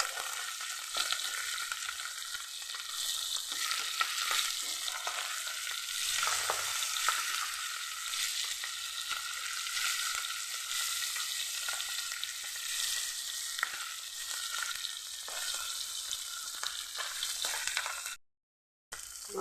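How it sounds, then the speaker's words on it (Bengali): Flipped pabda fish fry in hot oil in a pan, giving a dense, steady close-up sizzle that runs on continuously with small crackles, then drops out briefly near the end. "এখন উল্টে দিচ্ছি।"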